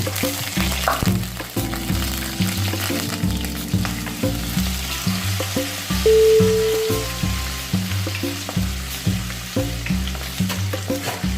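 Thinly sliced garlic and ginger fry in oil for a Kerala sardine chilli curry, with a steady, busy sizzle running the whole time beneath prominent background music.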